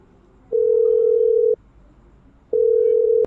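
Telephone dial tone ringing while calling a friend: two loud, steady beeps, the first about a second long, then a pause and a second tone cut short, alone and close.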